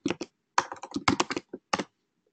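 Typing on a computer keyboard, close and crisp, in several quick bursts of clattering keystrokes separated by short pauses.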